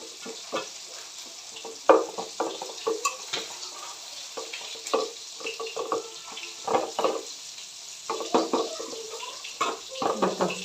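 Small roe-filled fish seasoned with chili and salt fry in a pan, giving a steady close sizzle punctuated by light clinks and scrapes of a utensil.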